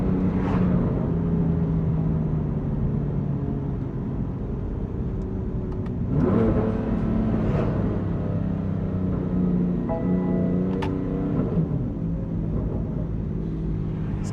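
A 2018 BMW M3 CS engine hums and rises through gear changes from inside the cabin, with steady drivetrain and road rumble punctuated by a few brief surges as it shifts, and no talking.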